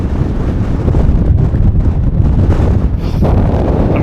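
Strong wind buffets the microphone during wild camping on an exposed spot, a loud continuous low rumble and roar filling the whole stretch with no talk.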